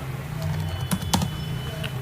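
Keys clack on a computer keyboard while an SQL delete query is typed, a few quick soft taps under a steady low hum and a voice speaking.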